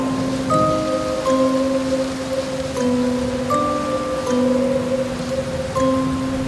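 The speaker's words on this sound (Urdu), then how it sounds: "اس وقت بھی سرد تیز ہواؤں کے ساتھ بارش بھی کافی تیز ہو رہی تھی۔" Heavy rain pours in a steady, dense hiss for a spooky story, joined by cold, strong wind, with sustained low musical tones droning underneath and no voices.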